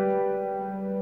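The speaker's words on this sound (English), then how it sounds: "And the very last one here then is the plagal cadence, which sounds like this." A sustained chord held alone, its steady harmonic tones ringing evenly as a plagal cadence, the Amen-style ending used in hymns.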